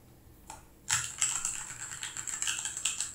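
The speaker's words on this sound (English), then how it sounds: "now if we type anything, it will work using the wired connection" Typing on a Keychron keyboard connected by wire, a quick run of close, crisp key clicks that starts after a brief pause and continues rapidly to the end.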